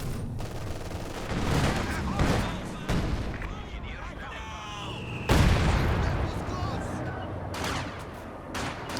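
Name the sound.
artillery barrage in video game Company of Heroes 2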